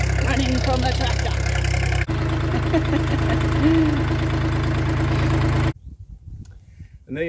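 A tractor engine runs loud and steady close by, a constant idling drone with a small change in pitch partway through, then cuts off abruptly near the end, leaving quieter scattered noises.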